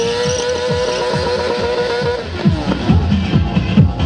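A motorcycle tire burnout: a loud, continuous engine roar with squealing tires, the revving rising and falling as the rubber spins, close and steady throughout.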